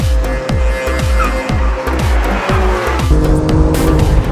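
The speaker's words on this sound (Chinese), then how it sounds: "重刹" A performance car with an eight-speed automatic brakes hard on a race track. Rapid, evenly spaced engine blips fall in pitch one after another under faint tire squeal, loud and close.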